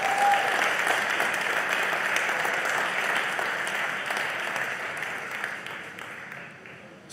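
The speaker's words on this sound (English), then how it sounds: "Please give everybody in the universe that's still alive a round of applause." Sustained applause from a crowd at a launch event, a thick wash of clapping that holds steady for several seconds and slowly tapers off.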